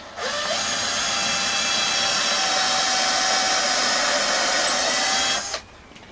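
A power drill drives a long decking screw into wood for a scrap-built wheelbarrow, with one continuous close whine lasting about five seconds before it cuts off.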